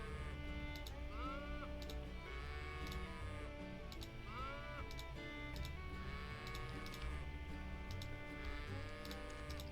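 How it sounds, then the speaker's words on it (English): Cattle in a farming video game moo and low in repeated, overlapping calls over a steady looping game soundtrack with ticking accents, constant and fairly loud throughout. "Glad that we don't have to listen to the cows anymore after this."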